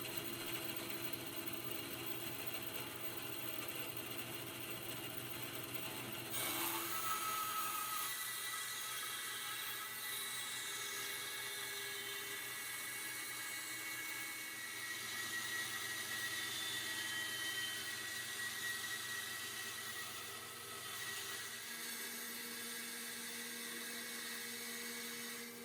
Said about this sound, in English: you can use the bandsaw to create these 1/8 inch wide rips